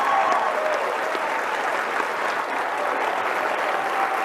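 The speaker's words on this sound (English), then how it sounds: "I want to hear loud applause" Steady applause from a large audience at CPAC 2017, a dense wash of clapping that holds at an even level throughout.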